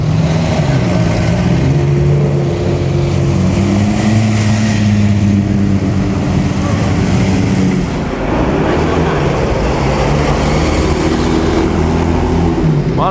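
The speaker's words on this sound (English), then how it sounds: "Maserati, first one this morning." A Maserati sports car at the Mille Miglia road race, its engine droning loudly nearby with a steady mid-pitched growl and a swell in revs midway, continuous over roadside ambience.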